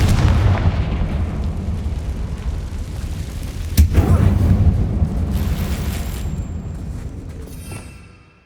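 A Confringo fire spell from Hogwarts Legacy bursts inside an abandoned mine, a deep rumbling boom with a sharp blast near four seconds, the low roar sustaining loudly before dying away at the end.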